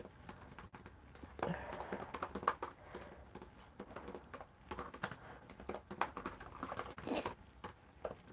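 Typing on a computer keyboard in bursts of quick key clicks with short pauses, close but quiet, no talking.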